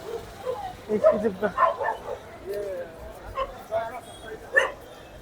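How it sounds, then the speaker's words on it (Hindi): Street dogs bark in short, uneven yips near Library Chowk on Mall Road in Mussoorie, sounding fairly close and heard under ongoing talk. "ये देखो यहाँ के कुत्ते बहुत हट्टे कट्टे हैं"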